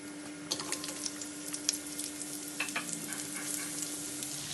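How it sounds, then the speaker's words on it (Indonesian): Onion and garlic stir-frying in a little oil for tom yam fried rice noodles: a steady close sizzle with scattered scraping stirs and light clicks throughout, no talk. "Kita tumis sampai wangi."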